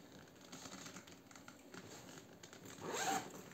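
A zipper runs along the roomy rear pocket of a Carlo Gattini Lamberto leather laptop bag, a single quick rasping pull near the end after quieter handling rustle.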